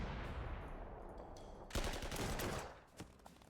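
Artillery fire in the video game Panzer Corps 2 comes as a sustained burst of loud crackling blasts lasting about a second. A softer single report follows it.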